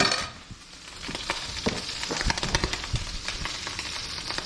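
Butter sizzles and crackles in a hot pan for Yellowstone cutthroat trout, a steady frying hiss broken by sharp pops that grow busier and louder toward the end.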